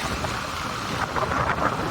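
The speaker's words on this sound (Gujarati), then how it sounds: "પવન બહુ છે ભાઈ।" Strong wind buffets the microphone in a constant, heavy roar with low rumbling gusts and no voices.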